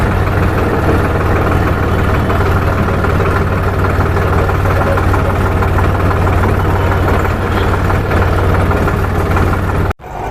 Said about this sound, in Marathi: ट्रॅक्टरचा आवाज खूप जास्त जोराचा